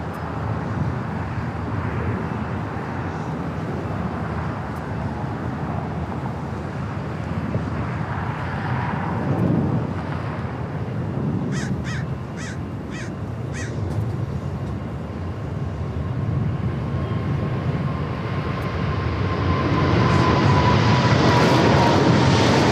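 A jet aircraft on runway 25 Left at LAX, a steady loud broadband roar that swells toward the end as it draws closer, with crows cawing briefly in the middle.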